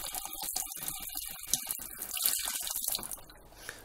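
Cold tap water runs steadily into a sink while a Dyson vacuum filter is rinsed under it, a close, continuous splashing flow with no voices.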